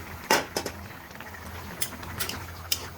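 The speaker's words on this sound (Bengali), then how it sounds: "ঢাকাটা সরিয়ে নিচ্ছি।" A metal lid lifted off a cooking pan of pabda fish and tomato bhuna, a sharp clink followed by a few lighter clatters and taps, close and alone.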